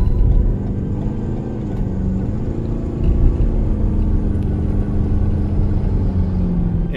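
Engine of a light SUV under gentle acceleration, a steady low rumble and road drone from inside the cabin that swells slightly partway through, with no talking.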